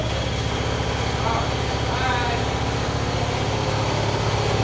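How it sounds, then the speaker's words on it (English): An air compressor runs in a home garage during a tire change, a loud, steady mechanical drone that holds evenly from start to finish. "Got the compressor going."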